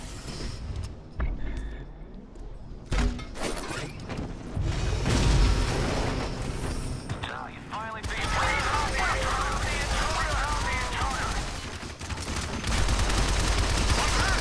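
Assault rifle fire in the video game Shadow Complex, with loud rapid bursts and booms and mechanical clanks, plus a sustained stretch of continuous automatic fire and dense impacts at close range.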